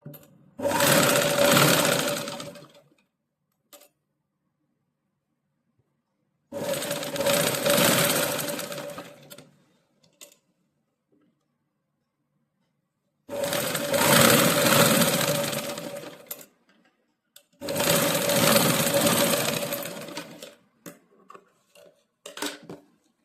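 An electric sewing machine stitches the back neck of a blouse in four loud, close bursts of rapid whirring, each a few seconds long, separated by near-silent pauses with faint clicks.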